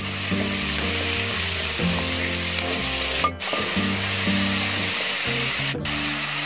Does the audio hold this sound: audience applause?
no